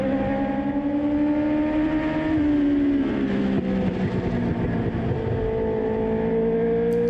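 Race cars roar around the oval at Colorado National Speedway, several engines droning steadily and shifting pitch as they pass, loud and continuous with no voices.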